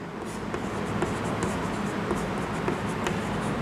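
Hand-writing on paper or a board, a steady scratchy scraping texture with faint repeated pen or chalk strokes, alone with no talk.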